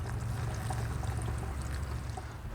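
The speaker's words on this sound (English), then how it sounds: "all we have to do is pour it in." Homemade windshield washer fluid mixed with McKee's is poured from a container into a car's washer reservoir, a steady close gurgling stream lasting a few seconds with no talking.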